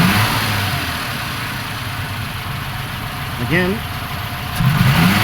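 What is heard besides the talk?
1995 Suzuki Escudo engine revving from a throttle cable snap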